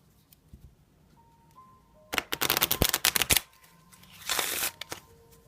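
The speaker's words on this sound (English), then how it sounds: "I'm going to be able to shuffle these fine" Someone shuffles a deck of Zigeuner or Cigány fortune-telling cards, which are sized like playing cards. Two bursts of crisp riffling sound up close in a quiet room, the first louder and rapid, the second shorter.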